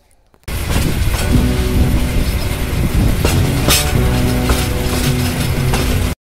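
A passenger train runs steadily with loud, continuous rattling and clanking of wheels and carriages, close by and without talk, stopping abruptly near the end.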